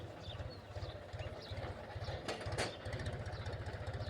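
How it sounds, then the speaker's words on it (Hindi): A tractor squeezes along a narrow village road, its engine chugging in a steady low pulsing rhythm at moderate distance, with a brief clatter midway and no talking. "ट्रैक्टर आ रहा है, निकल नहीं पा रहा है"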